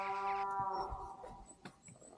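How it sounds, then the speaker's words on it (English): Cows in a misty field beside a Roman wall in England give one loud, drawn-out moo that fades out, followed by quieter rustling and faint noises at a moderate distance. "There's some angry cows."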